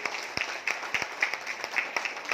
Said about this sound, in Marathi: जोरदार टाळ्या वाजवून या गोष्टीचा आपण स्वागत करू